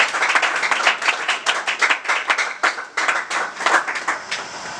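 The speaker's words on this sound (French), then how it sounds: "Sur vos applaudissements, il peut passer devant." An audience at a nomination ceremony for provincial officers in Kinshasa, DR Congo, claps steadily and fairly close as a newly named executive secretary comes forward, the claps dense and uneven throughout.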